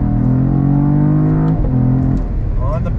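A 2022 Cadillac CT4-V Blackwing sports sedan accelerates hard on throttle, its engine holding a steady loud drone that dips briefly at a gear change and then climbs again, up close.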